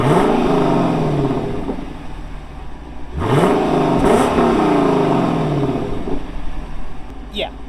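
A Lexus LC500 V8 with its stock exhaust revs up hard in two sharp bursts, the pitch sweeping up and falling back between pulls, close and loud, with a voice speaking briefly near the end.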